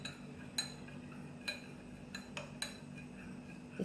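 A spoon stirs herbal tea sweetened with brown sugar in a cup, giving a handful of faint, sharp metallic clinks against the rim at uneven intervals over a quiet low hum.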